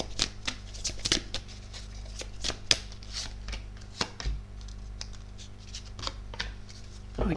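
Tarot cards are shuffled for a reading in a quiet room with repeated soft riffling snaps and flicks at close range. The card sounds are irregular, and there is low background hum.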